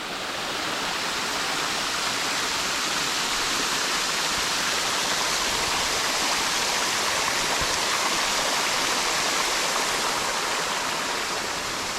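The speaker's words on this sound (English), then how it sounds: "this waterfall is just past mile marker 67" A waterfall on the Ouachita Trail rushes loudly and steadily, a close, continuous roar of falling water that fills the whole scene without any voices.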